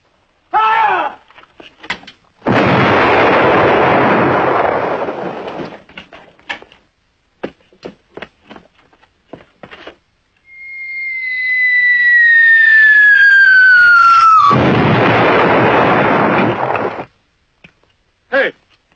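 A long-range artillery gun fires at a distant target, with a heavy roaring blast, a descending whistling shriek, and then another sustained roar, loud and close, among shouted commands.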